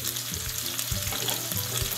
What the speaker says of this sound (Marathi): पहिला आपण टाकूया थोडा जिरा आणि जो एक कांदा आपण उभा चिरून घेतला होता तो टाकूया।